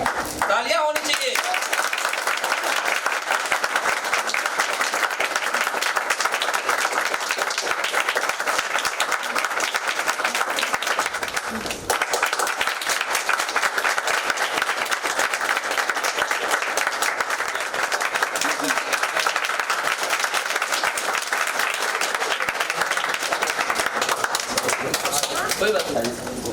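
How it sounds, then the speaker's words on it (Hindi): Sustained audience clapping fills the space for nearly half a minute, loud and continuous with a brief dip midway, while a voice can be heard over it at times. "तालियां होनी चाहिए"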